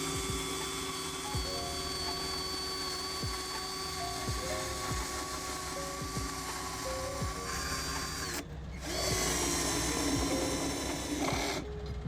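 BESSER step drill bit boring through a steel pipe with a 3.2 mm wall, a steady high-pitched whining drill motor with rhythmic grinding, close and continuous, briefly dipping before resuming.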